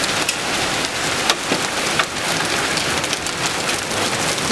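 Heavy summer storm rain pours steadily over a yard in Winnipeg, a dense continuous hiss with scattered louder drops and splashes, close and even throughout.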